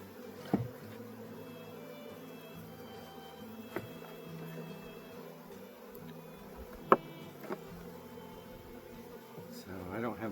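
Honey bees in a small hive during a spring inspection give a faint, steady buzzing hum throughout, broken by a few sharp knocks and clicks close by.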